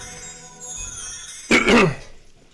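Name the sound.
throat clearing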